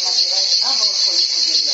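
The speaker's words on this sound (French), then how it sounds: "Au chant des cigales, vous les attendez, hein?" Cicadas singing in the southern French countryside, a dense, steady high-pitched buzzing drone, with a voice talking faintly underneath.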